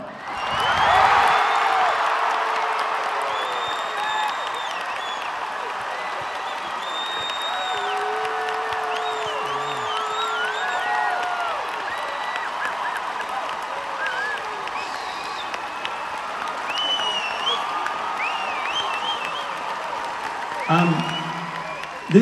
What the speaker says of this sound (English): the applause was so loud that I think I'll keep it on for a couple minutes